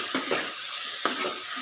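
Chutney ingredients stirred quickly in a kadai, a spoon scraping the pan in two brisk bursts over a soft background sizzle.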